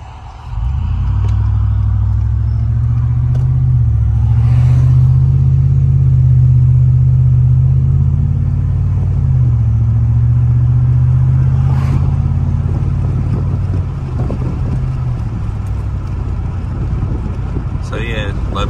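A 2018 Ford F-150 V8 with a Thrush glasspack exhaust idles with a steady, loud, throaty low rumble, heard outdoors with wind noise over the microphone.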